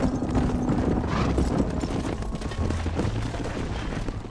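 Horse hooves clip-clop at a gallop in the Red Dead Redemption game on PC, a steady rapid drumming close by with game ambience and low rumbles underneath and no speech.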